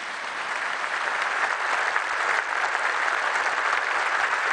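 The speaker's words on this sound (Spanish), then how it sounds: "un minuto de aplausos en reconocimiento y gratitud por su labor prestada" A crowd applauds steadily in tribute at a Mexican public homage, a dense, even wash of clapping that holds at a constant level throughout, heard from a moderate distance with no talk over it.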